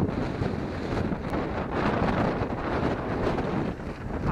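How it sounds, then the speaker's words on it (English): Strong wind on a blustery day in Corfu's old town, Greece, roaring steadily across the microphone in loud continuous gusts with a dull rumble throughout. "windy, blustery day here."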